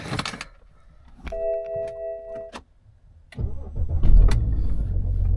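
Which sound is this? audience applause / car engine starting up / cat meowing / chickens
car engine starting up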